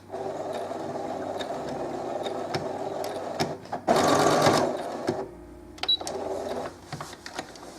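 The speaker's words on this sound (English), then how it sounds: "I'm just going to go back a few stitches." A sewing machine stitches a pillow, its needle running in a rapid steady rattle, with a louder surge of backstitching in the middle, then resuming briefly before stopping, close and clear without speech.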